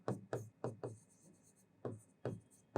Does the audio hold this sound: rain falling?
no